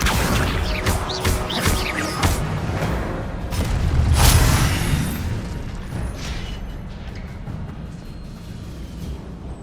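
A fire spell is cast in Hogwarts Legacy, giving a loud whooshing blast with crackling bursts and booming impacts over dense game noise, fading into a rumbling tail.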